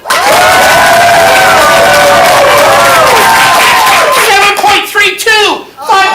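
Loud crowd at a CSz comedy improv showcase cheering, whooping and clapping for the red team, with high squeals and shouts rising over the applause before it fades out near the end.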